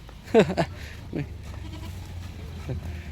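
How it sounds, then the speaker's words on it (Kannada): A goat grazing on a livestock farm gives a couple of short, wavering bleats close by, then a quieter call follows, over a low ambient hum. "ಮೇಕೆದು ಆಹಾರ ತಿಂತತ್ತದು"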